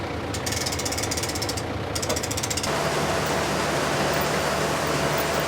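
A harvest grain auger with a failing bearing runs under steady machinery drone, with bursts of rapid rhythmic knocking and grinding over the first few seconds.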